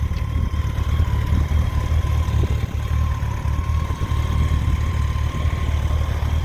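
A Honda CBR1100XX motorcycle idling up close, with a loud, steady low engine rumble and a faint mechanical whine running through it, heard alone without speech.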